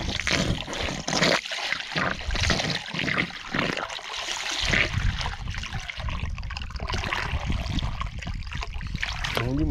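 Water from an electric pump rushing and trickling steadily outdoors, a continuous loud splashing flow that lasts throughout.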